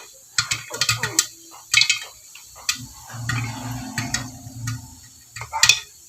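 A pressure cooker heats on the stove, giving off irregular clicking rattles and bursts of hissing with a low bubbling underneath, close and moderately loud.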